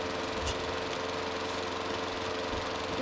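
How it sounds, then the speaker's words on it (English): A lawnmower running outside, heard as a steady mid-pitched engine drone with a slight rattling vibration, continuous and fairly close, with no voices. "Oh, it's the lawnmower again."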